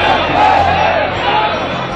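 Dense crowd noise from a large gathering at a Congress Party road show in Delhi's Kalkaji area, with Rahul Gandhi riding an open truck; a steady, loud wash of many voices and cheering with no single clear speaker.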